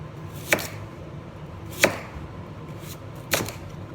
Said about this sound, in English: so you get your knife here, just make nice little slices